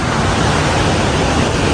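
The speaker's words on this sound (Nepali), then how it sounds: "खोलाको आवाज झर्ना" A river and waterfall rush beside a mountain trail in Langtang, making a loud, unbroken broadband roar of tumbling water close by, with no other sounds standing out.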